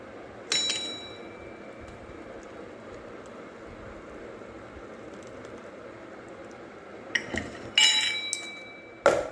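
A handful of sharp clinking taps on an oiled dish of dhokla batter, one early and a quick cluster near the end, over a low steady background hum.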